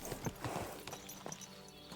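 Pebbles, a horse in Kingdom Come Deliverance 2, acts up with uneven hoof clops and restless stamping, fairly close, over ambient game sound.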